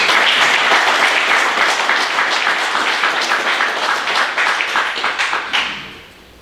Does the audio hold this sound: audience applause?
yes